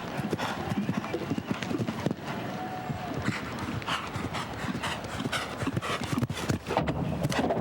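Hooves of a show-jumping horse on an outdoor course at a Spruce Meadows competition, a steady rhythmic clip-clop of cantering strides under continuous commentary and crowd ambience.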